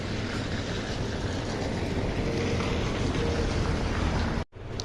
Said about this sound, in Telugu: చూడు నాయన వాన ఎంత పడుతుందో ఈడ.